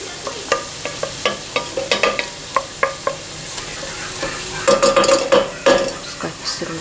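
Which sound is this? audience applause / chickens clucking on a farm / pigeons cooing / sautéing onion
sautéing onion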